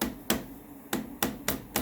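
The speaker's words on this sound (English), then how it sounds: "Now I grab just a soft hammer" Soft hammer tapping a handlebar on a 2020 KTM 300 XC TPI enduro bike into position, five sharp knocks at uneven intervals over a low steady hum, close and fairly quiet.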